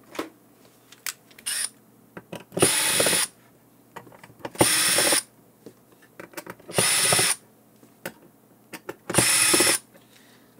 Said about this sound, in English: You open these four screws.